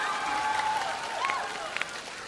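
A studio audience applauds a singer on a televised singing show, a steady wash of clapping running evenly throughout with a few sharper claps standing out near the end.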